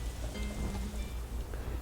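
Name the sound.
rain falling in video game Harvest Moon: A Wonderful Life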